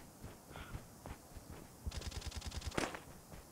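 Video game gunfire in Call of Duty Mobile battle royale, with a few scattered single shots followed by a rapid automatic burst and one louder shot, moderately close, with no voices present.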